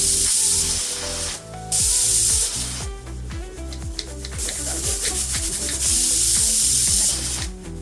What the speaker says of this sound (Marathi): 3 शिट्ट्या आपण आता कुकरला करणार पटकन